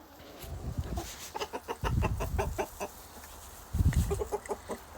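Backyard chickens cluck busily in rapid, overlapping calls close by, with rustling and pecking beneath, as they are fed a jar of homegrown sprouts.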